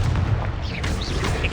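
Confringo spell blast in Hogwarts Legacy, a dense booming rumble with a hissing fiery burst and whooshing magical swirls, loud and continuous for about a second and a half.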